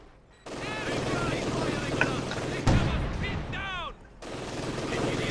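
Machine gun bursts and artillery fire from a WWII strategy video game, a dense, continuous clatter of gunfire with louder blasts and whistling shells, a brief drop near four seconds, and game voices heard underneath.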